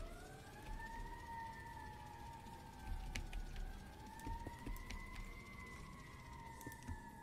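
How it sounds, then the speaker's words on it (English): An emergency vehicle siren wails outside an apartment, its long rising and falling tone sounding faint and distant. Scattered clicks and small sounds from inside the room come through over it, and no one talks. "Sorry if there's like siren noises in the background."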